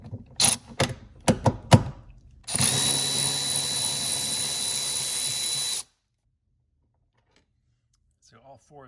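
A power tool ratchets in a few sharp bursts, then whirs steadily for about three seconds while backing out a seat bolt on a Porsche Boxster 986, loud and close, before stopping into near silence.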